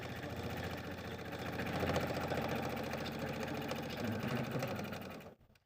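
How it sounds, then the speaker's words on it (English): A sewing machine topstitches around a fabric squirrel accessory project, running in a continuous fast whirring rattle close by, then stopping abruptly near the end. "step to your machine and top stitch all around"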